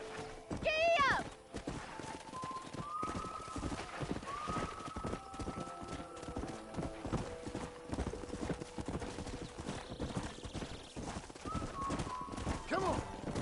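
Horse hooves clip-clop at a steady walking rhythm in the Western video game Red Dead Redemption, with a brief whinny near the start and a character's voice talking over the hoofbeats.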